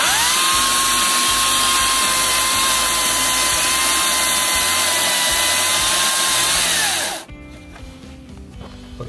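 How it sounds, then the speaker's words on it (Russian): A Makita DUC356 cordless chainsaw cuts through a log lying on the ground, a loud, steady high motor whine held for about seven seconds before it stops abruptly and only a faint rattle remains. "необходимость отпилить какое-то бревно, брус, лежащий прямо на земле"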